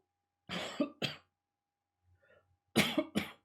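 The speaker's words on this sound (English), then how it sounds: "Sorry, a little bit of cough there" Two sharp coughs close to the mic, then a faint throat noise, followed by two more hard coughs.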